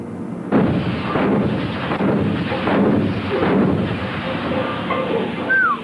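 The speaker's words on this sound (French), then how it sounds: "Loupé le tir de canon." Cannon fire from a ship's gun crew: a sudden heavy boom opens, then a long rolling rumble of further blasts and reverberation that fills the rest of the span, loud and close.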